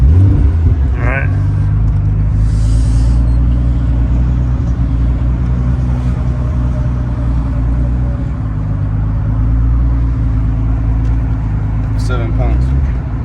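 A twin-turbo Infiniti G35 with very high mileage, on its first drive after the turbo install, hums along with a steady low engine rumble, heard from inside the cabin with voices talking over it.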